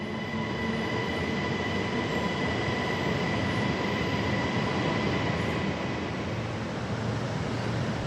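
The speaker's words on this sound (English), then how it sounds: "This was my M7 Series EMU departing back towards Brussels city centre." SNCB M7 series electric multiple unit pulling out of the Brussels Airport station below the terminal, a steady loud rolling rumble with a faint high whine and light wheel squeal sustained throughout, no voices.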